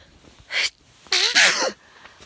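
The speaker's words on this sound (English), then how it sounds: "I've started sneezing again." A sneeze sounds up close indoors: a short sharp burst, then after a pause a louder, longer sneeze with a voiced, wavering tail. Faint room noise fills the gaps.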